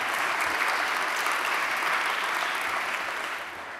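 Steady audience applause fills a large hall during a city mayor's annual state of the city address, a dense, even wash of many hands clapping that holds loud for several seconds before tapering slightly at the end.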